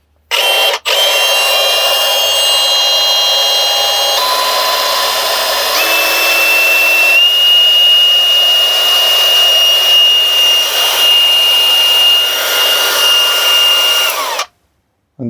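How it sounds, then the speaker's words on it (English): A Milwaukee 2888 variable speed angle grinder runs alone and close for about fourteen seconds, with a steady high whine that steps up in pitch partway through before the motor cuts off. "Just let's turn and listen the sound for the grinder."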